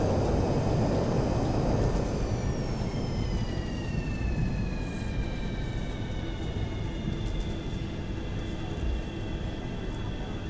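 A Boeing 737-200 in a flight simulator gives a steady, loud, broadband engine roar with high whining tones slowly falling in pitch, continuous throughout with no talking.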